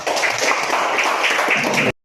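Classroom applause for a student after an answer in a school lesson, a brisk, even round of many hands clapping for about two seconds before stopping abruptly.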